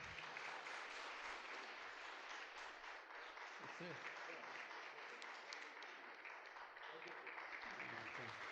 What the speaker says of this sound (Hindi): तालियां बजाएंगे हम सब